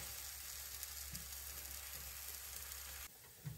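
Sliced banana sabarina sizzles steadily in hot oil in a pan just after being flipped, a continuous close crackle and hiss that drops off abruptly near the end.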